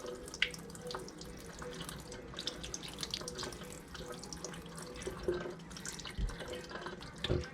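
A kitchen tap runs steadily while chitterlings are rinsed under it, with continuous splashing and occasional wet slaps and drips close by.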